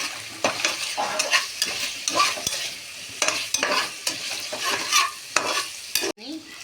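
Six small potatoes fry and get stirred in a pot of hot oil for chicken tehari, giving a steady close sizzle broken by repeated scraping stirs, with no one talking.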